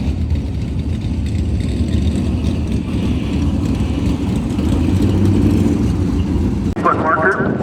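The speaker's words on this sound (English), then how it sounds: "we just started up the small block high output trucks" High-output small-block engines in pulling trucks roar continuously at a truck pull event, a loud, dense engine drone filling the pits with crowd and announcer noise mixed in and a brief change near the end.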